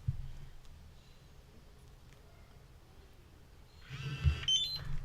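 An electronic GPS device gives a short burst of high, stacked beeps near the end, over a low background rumble with faint handling noise.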